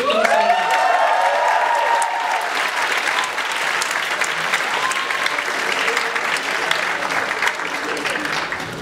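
An audience of about 450 people at a Malaysian Night student event bursts into loud, sustained applause, dense clapping that holds steady for several seconds with some cheering mixed in at the start.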